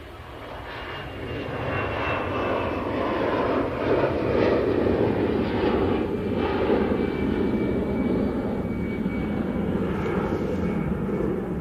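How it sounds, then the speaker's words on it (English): An EasyJet Airbus A320-200 jet airliner rotates on takeoff at Manchester Airport, producing a loud, steady, continuous engine roar that holds at full strength through the whole stretch without letup. "sounds like an EasyJet. A320-200 now"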